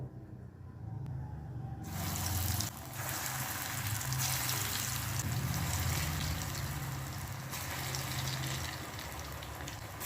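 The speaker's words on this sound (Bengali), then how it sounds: "ধনেপাতা আর পালং শাকের পকোড়াগুলো ভেজে নেওয়ার জন্য কড়াইতে তেল দিয়ে দিয়েছি" Spinach and coriander pakoras deep-fry in oil in a kadai over a medium-high flame, a dense, steady sizzle that starts abruptly and then holds evenly, loud and close.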